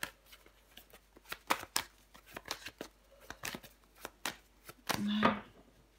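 Tarot cards handled and laid down on a table during a reading, a series of quick soft slaps and flicks of card against card, close and fairly faint, ending in a brief voiced sound.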